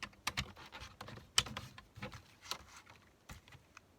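Scissors snipping paper to make a bookmark, a quiet series of short, irregular cuts and rustles, close by with no talking.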